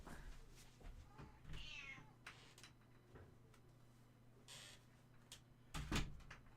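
A domestic cat meows several times at close range over a low, steady background hum, with a few clicks and knocks like a cupboard or door moving around it.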